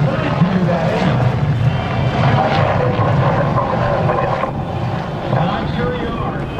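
Red Bull helicopter flown by Chuck Aaron at the 2012 Blue Angels Homecoming Airshow, a continuous loud, rough roar without pauses, heard outdoors with voices mixed in.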